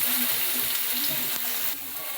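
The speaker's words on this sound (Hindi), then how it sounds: "उसके बाद जाएगा लहसुन दरदरा सा कुटे हुआ" Cumin seeds and coarsely crushed garlic sizzle steadily in hot oil for jeera aloo, a dense, loud, continuous hiss and crackle close by, with no voices over it.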